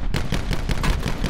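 Sniper rifle fire in the battle royale Call of Duty Blackout: a loud, steady run of sharp, booming gunshot cracks in quick succession, close and dominant, with no voices.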